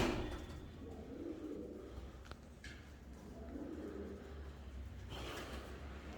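Pigeons coo softly in a loft, a low murmuring call repeating several times at moderate distance over faint background noise, with a brief knock partway through.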